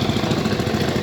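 A 1927 Howard chain drive vintage tractor engine idles steadily at a parade, a close, even low chugging rumble with no voices over it.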